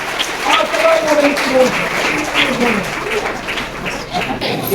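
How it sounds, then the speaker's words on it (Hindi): Congregation applause at a church service, a broad steady wash of clapping throughout with voices and some singing or talk audible over it. "तालियां।"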